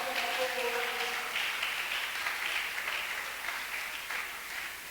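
Audience applause at a church gathering, a steady wash of clapping that holds for about five seconds and slowly fades, with a voice speaking briefly at the start.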